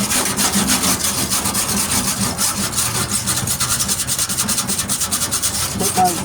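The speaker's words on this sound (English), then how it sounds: "take my wire brush and keep the welds clean" A wire brush scrubbing flux-core welds on the tailgate of a 1998 Ford Ranger during rust repair, heard as continuous loud, close, rhythmic scratchy back-and-forth strokes lasting throughout with no pauses or talking.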